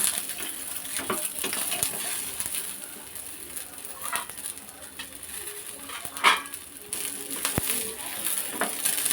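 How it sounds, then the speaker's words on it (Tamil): Small shallots fry in a pan over low heat, giving a soft, steady hiss with occasional faint scrapes and clinks from stirring. No one speaks. "நம்ம அடுப்பை சிம்மிலே வச்சு சின்ன வெங்காயம் சேர்த்து நல்லா வறுத்துக்கலாம்"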